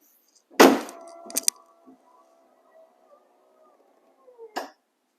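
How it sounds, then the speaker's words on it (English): A Lincoln Town Car trunk lid shuts with a sharp, loud thud followed by a couple of smaller clicks and a faint lingering rattle, then another firm knock near the end, in an otherwise quiet space. "And now the trunk closes as it should"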